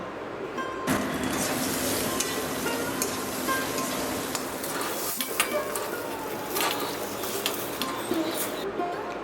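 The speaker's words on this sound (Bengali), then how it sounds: "এবার একই তেলে দিয়ে দেবো একটা ছোট সাইজের বেগুন লম্বা করে কাটা বেগুনটাকেও নুন হলুদ দিয়ে লাল লাল করে ভেজে নেব" Long eggplant slices seasoned with salt and turmeric fry in oil in a kadai, making a dense, continuous sizzle with occasional stirring scrapes and light clinks throughout.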